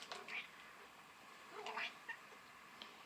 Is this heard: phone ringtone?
no